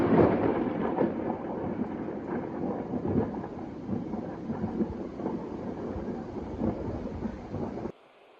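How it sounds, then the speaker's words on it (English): Loud thunder rolls through a storm in College Football 25, a sustained deep rumble with rain and wind noise layered in, holding steady for about eight seconds before cutting off abruptly. "the thunder was ridiculously loud. Like, it would have clearly picked up on the microphone"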